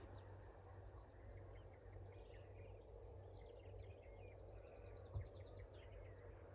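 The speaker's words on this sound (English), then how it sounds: "Can you hear the bird song?" Faint birds chirp and trill in the distance over a low steady hum, with a rapid repeated twittering phrase near the end; otherwise very quiet.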